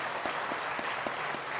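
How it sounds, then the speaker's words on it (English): Audience applause after a lecture on the economy, a faint, steady patter of clapping in a hall with soft periodic accents, low in level throughout. "A big round of applause to,"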